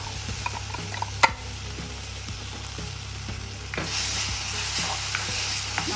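Ginger-garlic paste fries in a pan for a traditional Assamese coconut and mustard fish curry, giving a steady, moderate sizzle. Occasional stirring clicks and scrapes sound close by, and the frying grows a little louder and fuller partway through. No one speaks.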